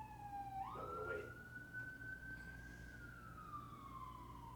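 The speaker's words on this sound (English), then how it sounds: "Welcome to the sirens." An emergency siren wails in New York City, rising then holding a long steady tone before slowly falling, over distant traffic rumble.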